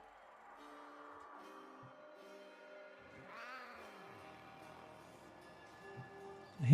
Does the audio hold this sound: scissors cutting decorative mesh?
no